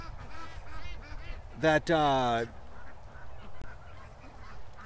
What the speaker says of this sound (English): The ducks will figure out the other ways to get in.